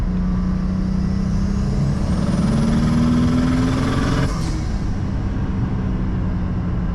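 A single-turbo BMW N54 engine roars through a full-throttle pull, its note rising steadily for about four seconds before an abrupt shift or lift, then droning on loud and close with no talking.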